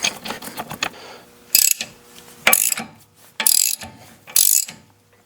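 Ratchet clicking while tightening a new nut on a 2006 Toyota Matrix steering knuckle, in several short bursts of rapid close pawl clicks separated by pauses.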